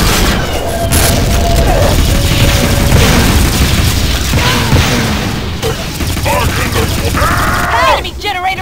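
A generator being destroyed in the video game Tribes 2, loud booming explosions and bursts over continuous gunfire and game effects, with rising electronic tones near the end and voices speaking over the action.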